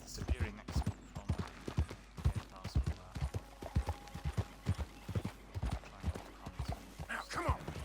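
Horse hooves clip-clop at a steady walking pace in the video game Red Dead Redemption 2, with a rhythmic series of close thuds and a brief whinny toward the end.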